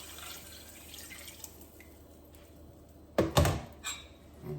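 Leftover seasoning mixed with water is poured into a cooking pot of oxtail, heard as a short splashing pour with a couple of thuds of the container, after a quiet stretch of faint drips.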